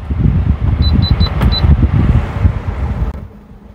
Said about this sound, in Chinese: 目前各位听到的是冷气的噪音啊